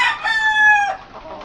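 A chicken gives a short, loud, close squawking call rising and falling over about a second, alone without other sounds.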